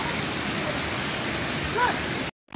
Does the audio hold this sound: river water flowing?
yes